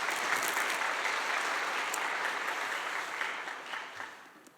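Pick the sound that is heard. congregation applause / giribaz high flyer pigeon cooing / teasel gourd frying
congregation applause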